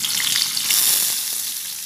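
Shrimp hit a hot pan with golden fried garlic and set off a loud, dense, continuous sizzle that stays close and steady, with faint stirring underneath.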